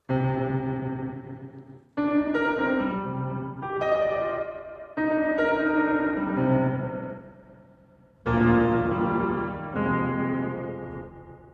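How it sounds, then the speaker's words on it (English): Tonal instrument phrases processed through the Aberrant DSP Lair reverb plugin, with sustained harmonic notes in several swelling segments whose tails ring out and decay at differing lengths between fresh attacks. "It's almost like there's different release times for the reverb depending on which one you use."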